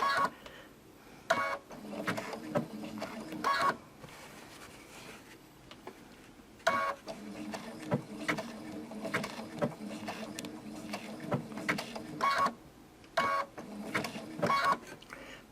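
Domestic sewing machine stitching along the edge of appliqué fabric, its motor whirring in steady bursts that stop and restart as the fabric is turned, close and moderately loud with no talking.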